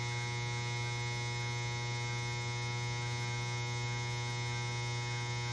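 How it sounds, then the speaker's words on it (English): A household clothes dryer runs steadily, a constant low mechanical hum with broadband whir that holds unchanged throughout, no voices. "let me let my dryer stop here"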